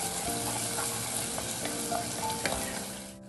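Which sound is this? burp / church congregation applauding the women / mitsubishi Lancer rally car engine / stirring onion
stirring onion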